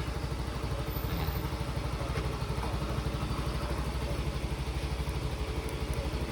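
A motorcycle engine idles steadily nearby, a low rapid chugging throbbing evenly throughout with no voices.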